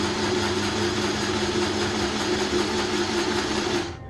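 A Shark Mini sewing machine stitching fabric runs as a steady, close motor whir with a constant hum, then cuts off abruptly at the end.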